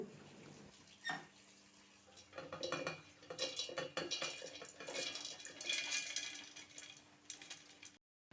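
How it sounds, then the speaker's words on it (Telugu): Fried coconut mixture scraped from a pan into a mixer jar for a thick chutney, with a steady run of close metallic clinks, spoon scrapes and rattles that drop to silence near the end. "ఇప్పుడు వెంటనే స్టవ్ ఆఫ్ చేసుకుని వీటిని ఒక మిక్సీ జార్లో తీసేసుకుందాం."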